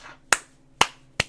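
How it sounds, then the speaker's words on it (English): Three sharp, separate hand claps sound close by in a new office, evenly spaced about half a second apart against a quiet room. "Let's get some claps."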